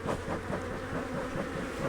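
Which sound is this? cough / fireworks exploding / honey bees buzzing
honey bees buzzing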